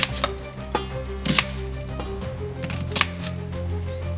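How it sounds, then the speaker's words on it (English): A knife slices through a quarter onion on a cutting board, with sharp, close, irregular taps of the blade striking the board, about eight cuts spaced apart. "I'm also using a quarter of an onion. Let's just go like this, and then make slices"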